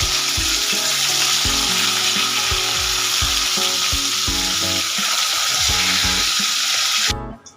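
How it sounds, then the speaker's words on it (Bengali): Rohu fish pieces fry in oil in a pan while being turned to brown, a loud, dense sizzle running throughout with a faint rhythmic musical backing underneath, cutting off abruptly at the end. "দেখুন সব মাছগুলো দিয়ে দিয়েছি, উল্টে পাল্টে লাল করে ভেজে নেব।"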